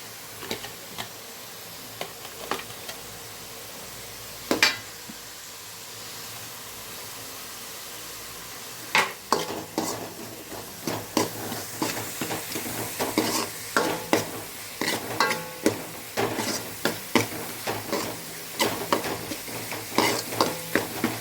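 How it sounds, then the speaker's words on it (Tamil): Two large sliced onions fry in a pan for a chicken kulambu, a continuous hiss that grows busier as stirring begins, with many quick ticking clicks of the utensil against the pan. "இப்போ வந்து நான் ரெண்டு பெரிய வெங்காயம் வந்து கட் பண்ணி வச்சுருக்கிறேன் அதை வந்து நம்ம போட்டுக்கலாம்"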